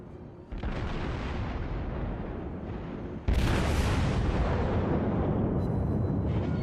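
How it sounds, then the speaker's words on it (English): A shell explosion striking an enemy ship in World of Warships: a loud, sudden blast cuts in and swells into a sustained, roaring wash of noise on top of an already dense rumble of naval combat. "Boom! Enemy heavily damaged."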